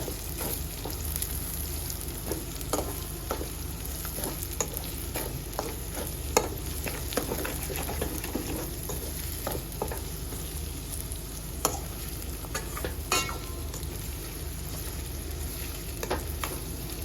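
Onion fries with green garlic in a pan for a North Gujarat green turmeric curry, giving a steady close sizzle broken by frequent scrapes and taps of a stirring spoon.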